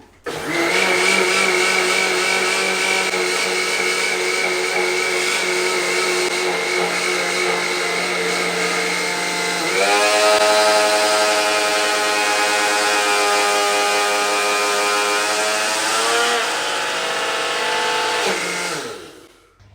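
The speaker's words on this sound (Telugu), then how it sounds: "జార్ను మిక్సీకి ఫిట్ చేసుకొని స్విచ్ ఆన్ చేసుకొని మిక్సీ పడుతున్నా" A mixie mixer grinder churns milk cream into butter with a loud, continuous motor whine; midway the pitch shifts and the drone thickens as the butter firms, running steadily until it switches off.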